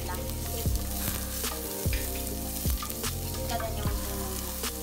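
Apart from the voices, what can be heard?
onions sautéing in a pan for chicken molokhia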